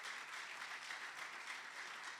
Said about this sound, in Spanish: Den un aplauso al Señor si lo está entendiendo.